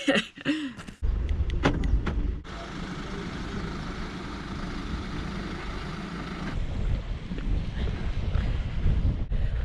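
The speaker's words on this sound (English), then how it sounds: "that is an icy wind" Icy wind buffets an outdoor microphone on a hilltop walk, a loud continuous rumbling roar that starts abruptly after a second and persists with gusty swells, no voices.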